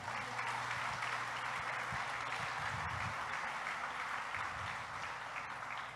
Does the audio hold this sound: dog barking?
no